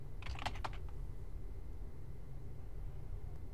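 Quick keystrokes on a computer keyboard while a web business setup form is filled in, a short burst of clicks near the start over a steady low hum, then only the hum.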